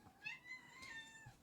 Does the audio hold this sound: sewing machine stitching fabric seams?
no